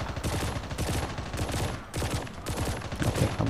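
Rapid bursts of small-gun fire in the Call of Duty Mobile zombie mode, a dense, steady rattle that runs for the whole stretch with only brief gaps, loud and close, with no talking.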